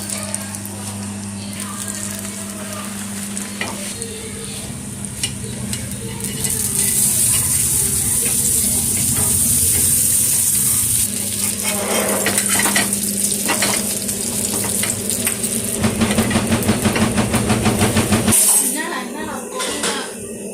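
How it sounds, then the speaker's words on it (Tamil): Bread frying in butter on a flat dosa griddle, a loud continuous close sizzle with occasional spatula clinks and scrapes, a voice talking over it throughout. "பாருங்க, நல்லா பட்டர் போட்டு நல்லா ஃப்ரை பண்ணுறேன் பாருங்கள்."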